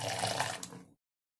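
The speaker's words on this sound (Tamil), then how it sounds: "இப்போ இது எல்லாத்தையும் ஒரு 3-4 தடவை நல்லா கழுவி எடுத்துக்கொள்ளுங்க." Ingredients being washed by hand in water, a close splashing and sloshing sound that runs for about a second before cutting to silence.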